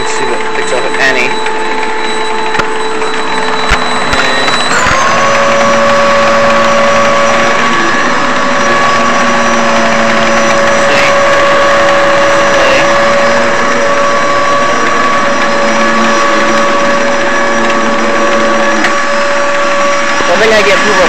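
Hoover Z700 vacuum cleaner running on carpet with its gentle brush setting, a loud steady motor whine that shifts pitch a few seconds in and then holds a continuous drone with faint brush rattle throughout.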